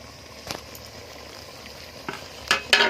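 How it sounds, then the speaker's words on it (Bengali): Pork simmering in a covered cooking pot with little oil, a low steady bubbling bed broken by a few sharp stirring scrapes and clinks near the end. "এটা ফুটছে। আবার একটু নেড়ে দেবো যেন নিচে না লাগে"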